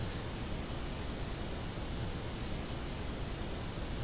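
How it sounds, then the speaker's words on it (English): Steady white noise from a relaxation sound app on an Android phone, an even, unbroken hiss that holds at constant level throughout with nothing else over it. "some white noise."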